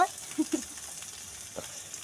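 An egg omelette fries in a pan with a faint, low sizzle, while a few quiet taps and scrapes mark a spatula turning it.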